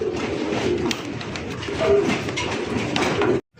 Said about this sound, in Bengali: কালা কুসকুসা একজোড়া ডেনিশ কবুতর, পুরা অল বডিতেই মনে করেন যে মানে ঝাড়বাতি চলতেছে